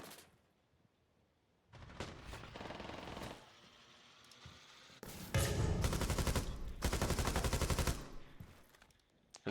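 Gunfire in Rainbow Six Siege: bursts of rapid automatic fire in several loud volleys separated by short pauses, the longest sustained burst near the end, heard close and alone.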